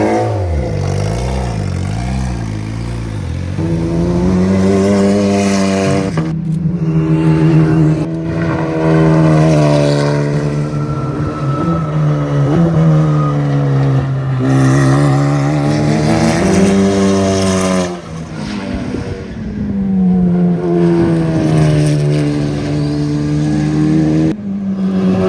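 Turbocharged Honda K20 engine in a Lamborghini Huracan race car on a racetrack, loud sustained revving with repeated rising and falling pitch as it accelerates and shifts, close by with no talking.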